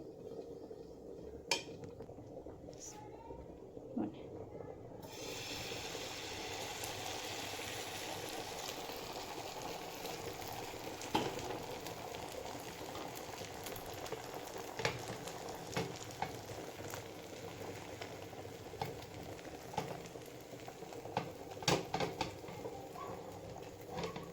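Omelette frying in oil on a tawa, a steady, fairly quiet sizzle running throughout with occasional soft spatula clicks and scrapes.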